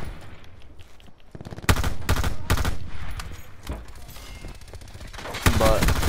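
M16 rifle fire in Black Ops 4 gameplay, loud bursts of rapid shots in several clusters against game background sound, with a voice talking throughout.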